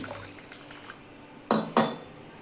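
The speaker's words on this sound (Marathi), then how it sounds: "आता पाणी घालूया अजून थोडंसं." Water is poured into rice flour batter in two short, close splashy bursts near the end, following a quiet stretch of faint clinks.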